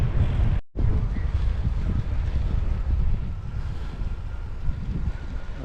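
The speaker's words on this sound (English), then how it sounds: "It's very windy on the coast, I have to say." Strong coastal wind buffets the microphone in a continuous loud, low roar with constant gusting rumble, broken by one brief dropout near the start. No other sounds come through.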